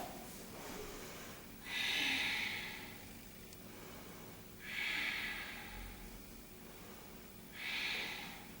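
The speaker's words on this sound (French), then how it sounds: "Donc 5 respirations dans cette posture" Slow, steady breathing held through a seated yoga posture: three long audible exhales spaced a few seconds apart, close and soft, with quiet pauses between them and no talk.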